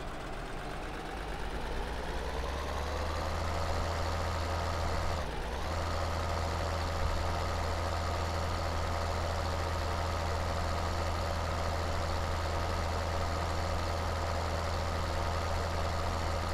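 Idling engine of a New Holland tractor in Farming Simulator 2013, a steady low droning rumble with a constant hum, continuous and fairly loud with no talk over it.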